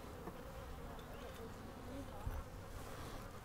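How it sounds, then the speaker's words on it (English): Honeybees hum in a dense, continuous swarm around an opened spring hive during an inspection, a steady, moderately faint buzz with no pauses. "why did we break into this big old massive bunch of bees?"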